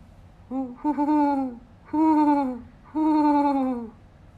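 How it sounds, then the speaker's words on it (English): Three deep, drawn-out great horned owl hoots sound one after another with short pauses between them, clear and fairly close against a quiet background. "The sound of a great horned owl."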